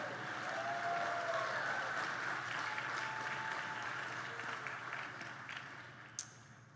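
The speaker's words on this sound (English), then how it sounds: "to applaud." A large crowd claps at the Gettysburg College class of 2017 commencement ceremony, with sustained applause that slowly fades and a faint voice or two underneath.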